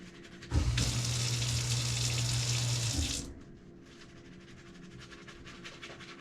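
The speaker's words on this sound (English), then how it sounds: "Okay, now we're going to break our hand into 4 different planes. 1, 2, 3, 4. And we're going to scrub that 10 times." Hands scrubbed under a running tap at a sink before the first surgical case of the day: a loud, steady gush of water for about three seconds, then it cuts off, leaving quiet dripping and faint rustling.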